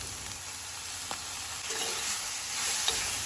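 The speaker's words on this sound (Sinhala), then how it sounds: "දැන් මම මේකට සොයා සොස් මේස හැන්දක් විතර එකතු කරගන්නවා." Soy sauce is stirred into a sizzling fish filling for Sri Lankan fish cutlets. There is a steady, hissing fry with faint scrapes of stirring, moderately loud and close, with no voices.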